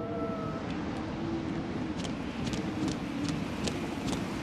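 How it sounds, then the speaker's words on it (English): Wind blowing outdoors in the horror game Outlast Whistleblower, a steady airy rush with faint high whistling tones drifting in and out. "Very windy."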